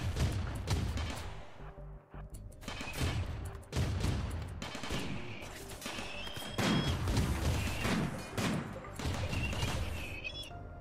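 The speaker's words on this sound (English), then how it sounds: "they have now passed the point that I can spin up these turrets" Rapid bursts of turret gunfire in a frozen RimWorld colony battle, dense overlapping shots with sharp thuds, fairly loud and continuous with brief lulls, no talking.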